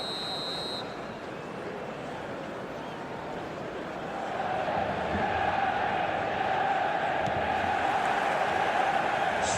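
A stadium crowd at a football match in the video game eFootball keeps up a steady, distant roar that swells slightly in the second half, a broad wash of cheering with no clear voices.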